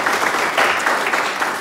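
Applause from a concert audience at Malostranská beseda, a dense, loud, steady clapping that fills the whole moment without pause.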